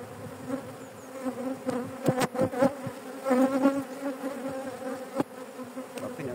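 Honeybees buzzing inside a hive, a dense close drone with shifting pitch and several louder bursts as individual bees pass near, heard alone with no talk.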